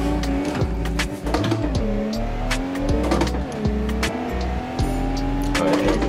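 An ETK e-Series TT Sport with a manual gearbox drives hard in BeamNG, its loud engine tone climbing and dropping with gear shifts while tires squeal and skid repeatedly throughout.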